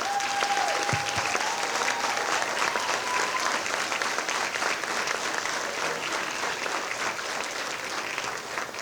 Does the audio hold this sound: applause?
yes